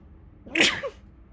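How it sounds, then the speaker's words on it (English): A single sneeze from an adult, one sharp burst close to the mic in a quiet room, with the usual short intake before the explosive release. "Sorry, I need to sneeze."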